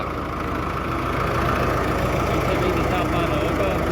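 A tractor engine idles steadily and loudly close by in a farm field, a continuous low rumble with a rough knocking texture throughout.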